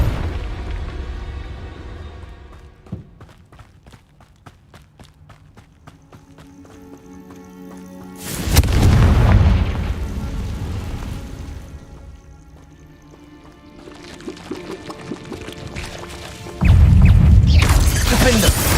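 Confringo fire spells explode in Hogwarts Legacy combat, two heavy booming blasts that swell and roar over a backdrop of clattering game action and rhythmic footfalls.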